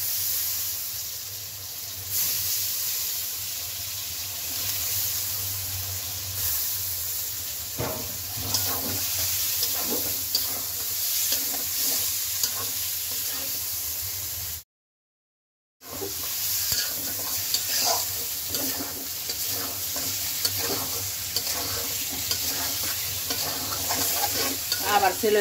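Washed shing fish goes into a pan of fried spices and sizzles steadily and loudly, with occasional stirring scrapes over a continuous hiss that drops out briefly near the middle and then resumes.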